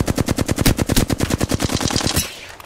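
A rapid automatic weapon fires a sustained burst in the video game Apex Legends, roughly twenty close, loud shots in quick even rhythm before the burst ends and a brief ringing tail fades out.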